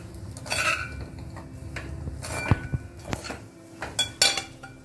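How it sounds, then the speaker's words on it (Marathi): Semolina being stirred into sautéed vegetables in a pan for upma, with soft scraping and intermittent clinks of a spoon against the pan, fairly quiet and close. "तर त्याच्यात आपण हा रवा घालून परत एकदा मिक्स करूया"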